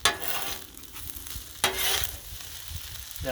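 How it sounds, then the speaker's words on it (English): Chicken fried rice sizzles softly on a hot griddle while a utensil scrapes and stirs in brief strokes, with one louder scrape partway through. "So we're going to stir this in really good."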